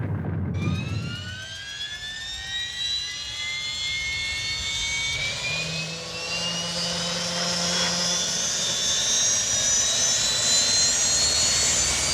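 The helicopter from the TV series Airwolf: its turbine whine climbs steadily in pitch as the engine spools up, loud and continuous with no voices.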